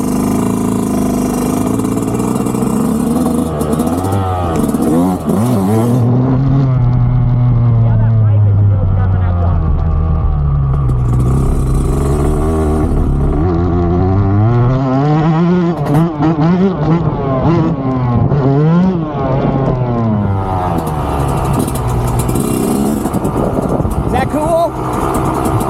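A dirt bike engine revs hard and drops through gears during a ride, its pitch rising and falling in swells with rough throttle blips, loud and close, with a rider's voice talking over parts.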